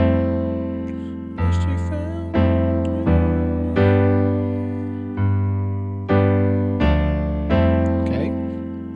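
Piano plays part 2 of a song slowly, a series of loud, sustained chords struck one at a time roughly every second, each ringing and decaying before the next.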